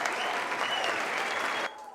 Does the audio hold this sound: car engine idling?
no